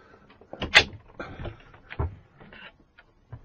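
A boat's rear engine compartment access panel is pulled off by hand, giving a few close knocks and scrapes spread over a few seconds, with quiet pauses between them.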